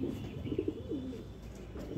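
Pigeons cooing softly in low, throaty bursts, close by, over a faint steady background hum.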